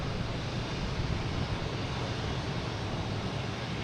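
Jet airliners at Boston Logan Airport, including JetBlue and Alaska Airlines planes, give off a steady, broad engine roar that holds at an even loudness throughout, with no voices.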